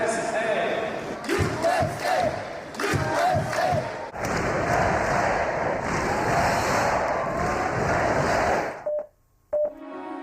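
A crowd of movie extras chants "USA" in loud rhythmic bursts, with shouting and cheering building into a sustained roar before cutting out abruptly near the end, leaving brief tones.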